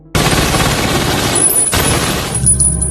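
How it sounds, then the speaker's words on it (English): Rapid, dense bursts of gunfire as men shoot at a store in a film scene, loud sustained automatic fire with a sharp crack near the middle before trailing off. "one of the guys outside starts shooting at the store"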